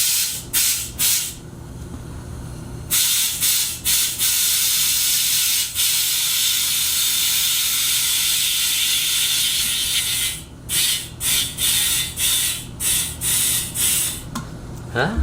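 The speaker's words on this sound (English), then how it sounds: "So I'm gonna go ahead and turn on my compressor" A small air compressor runs steadily with a broadband hiss for about eight seconds, then cuts to intermittent bursts, inflating a soft sidewall tire on a newly fitted wheel; faint talk is heard at the start.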